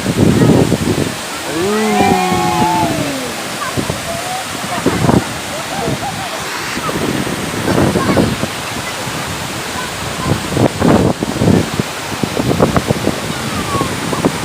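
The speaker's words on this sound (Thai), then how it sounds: "โอ้ลมแห้งอย่างนี้เนาะ" Dry wind blowing at Tat Yueang waterfall, a loud, steady broadband roar of gusting air and rushing water, with voices talking over it.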